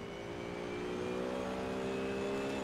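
A race car engine in the game Assetto Corsa roars at a steady high pitch, slowly climbing as it pulls, loud and continuous with no voices over it.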